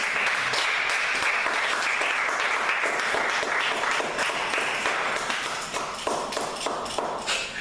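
Sustained applause and cheering from a church congregation fills the whole stretch, loud and dense with crowd noise and no speech over it.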